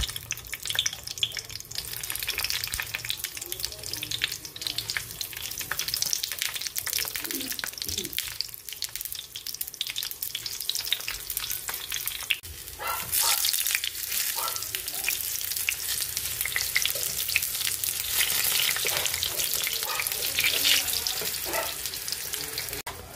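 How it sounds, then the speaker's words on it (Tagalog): Eggplant sizzles and crackles in hot oil, a steady, close frying hiss that grows louder and brighter partway through, with occasional stirring clatter and a person speaking at times. "Magpiprito naman tayo ng eggplant talong"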